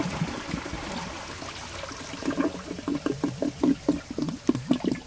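Water from a 100-year-old toilet flushing a grocery bag trickles and gurgles, then settles into a series of rhythmic glugging drips toward the end.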